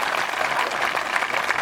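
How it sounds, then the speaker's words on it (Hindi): Audience applause at a Hindi comedy poetry show (hasya kavi sammelan), a brief, even burst of many hands clapping at moderate volume. "एक बार विश्वा जी अगर आपको आनंद दे गए हो ना तो बजाओ तालियां"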